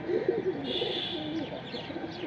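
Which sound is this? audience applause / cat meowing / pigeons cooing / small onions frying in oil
pigeons cooing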